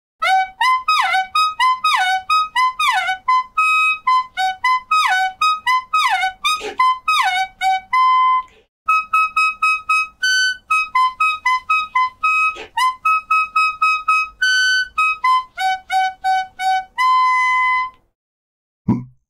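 A clarinet plays a bugle-call melody, bright tongued notes in quick fanfare-like figures and leaps, loud and unaccompanied, ending on a held note before a brief silence and a final sustained tone.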